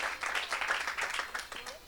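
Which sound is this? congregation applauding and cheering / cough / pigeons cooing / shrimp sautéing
congregation applauding and cheering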